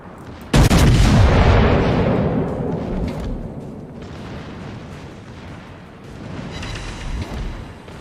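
Heavy naval guns boom in World of Warships, one massive broadband blast followed by a long rumbling decay and further distant booms, loud and alone with no talk.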